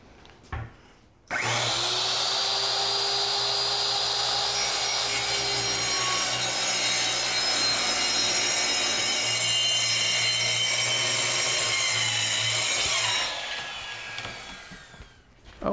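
A power saw cuts through a wooden board along a chalk line on a house build. The loud, close, continuous buzzing rasp runs steadily for about twelve seconds and then winds down, with no talking.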